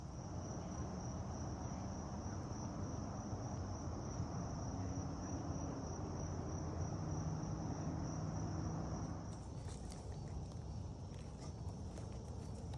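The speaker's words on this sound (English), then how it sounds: "That was a cricket. That's one of our fall musicians out here." Cricket chirping outdoors on a fall day, a steady high-pitched trill running continuously and fairly prominent over low outdoor rustling and shuffling, cutting out near the end.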